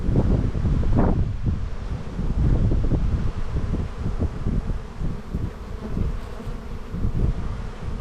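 Honeybees buzz steadily close by during a spring hive inspection in Australia, a continuous droning hum with occasional rustles and light handling noises.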